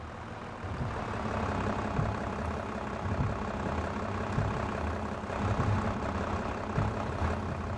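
Tractor engine in a farm simulator, driving into a barn through a tight door: a steady, heavy low rumble that keeps going at an even level throughout, with faint mechanical knocks.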